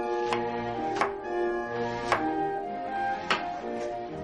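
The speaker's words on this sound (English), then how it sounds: "we're just going to make nice little thin slices from these peaches" Knife cutting fresh peaches into thin slices, four or five crisp, evenly spaced cuts against a steady low background hum.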